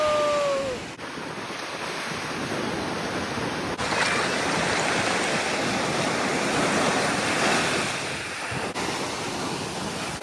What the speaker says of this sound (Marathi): एकदम खतरनाक लाट आहे पण या पाण्याच्या